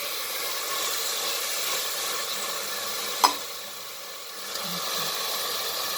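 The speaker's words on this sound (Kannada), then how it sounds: "ಈಗ ಕೊತ್ತಂಬರಿ, ಪುದೀನ ಸ್ವಲ್ಪ ಫ್ರೈ ಮಾಡ್ಕೊಳ್ತಾ ಇದ್ದೀವಿ ನೋಡಿ" Coriander and mint fry in ghee in a pan while cooking ghee rice, making a steady, even sizzle throughout, with a single sharp tap near the middle and a light stir soon after.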